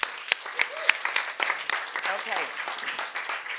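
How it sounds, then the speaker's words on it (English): A conference audience applauding its speakers, a steady burst of clapping from a sizable crowd, with a speaker's voice coming through over the applause. "can we have another round of applause for our amazing speakers?"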